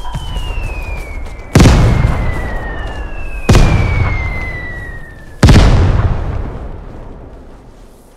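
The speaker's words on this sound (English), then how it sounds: "Drop a mortar strike on him." Three mortar strikes in the shooter game Vigor, each preceded by a falling whistle and landing as a loud, sharp explosion with a long rumbling decay, evenly spaced and close.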